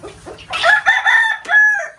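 Desi chickens kept in a rooftop cage give a short, loud, close rooster-style crow broken into a few rising and falling calls, with low clucking just before.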